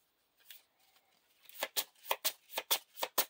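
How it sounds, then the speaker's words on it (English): An encounter deck of playing cards for the Lord of the Rings card game gets riffle-shuffled up close: a few soft ruffles, then a steady run of sharp, crisp riffles in quick rhythm. "Shuffle the encounter deck."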